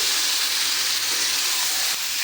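Tomatoes dropped into a hot pan for chutney set off a steady, bright sizzle and hiss that holds loud and even throughout, with no voices over it.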